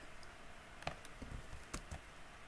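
Computer keyboard typing while writing CSS code, a handful of quiet, irregular key clicks close to the microphone against a low background hiss.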